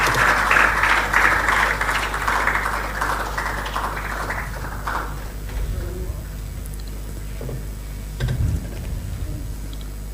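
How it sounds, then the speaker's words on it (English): Audience clapping at a leadership and reform conference panel session, a fairly dense burst at first that thins and fades after a few seconds, leaving a quieter room with scattered sounds. "Keep clapping, please, until they are seated."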